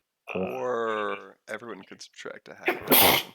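A short, sharp sneeze bursts out at the very end, right after a stretch of casual conversation among several people at a tabletop game session.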